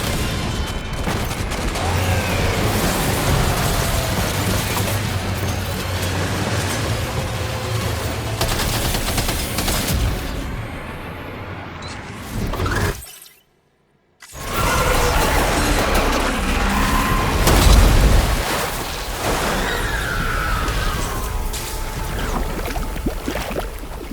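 Sustained gunfire in Death Stranding 2, dense and loud rattling bursts over heavy rumbling combat noise, cutting out briefly to silence before resuming just as intensely.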